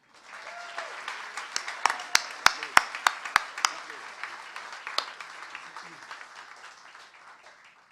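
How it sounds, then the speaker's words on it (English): Audience applause at a winter music recital, sustained crowd clapping with several sharp, louder individual claps standing out, fading toward the end. "can we all have a big round of applause for Leo?"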